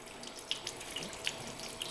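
Water gushing steadily out of an opened AutoPilot pool salt chlorinator cell, a continuous close splashing flow with a few brighter drip-like spatters on top, no talking.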